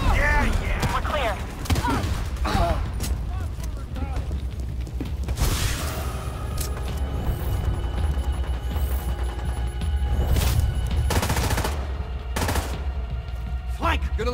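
Sustained machine-gun fire in the shooter The Division 2 during a firefight, steady bursts under continuous combat noise with periodic sharp louder shots, while voices call out over it.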